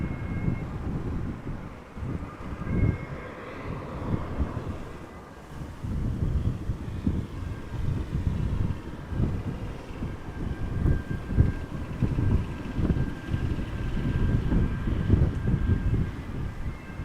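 An airliner on a shallow approach at Amsterdam Schiphol Airport, a low, rumbling jet roar at moderate distance, mixed with gusty wind noise on the microphone.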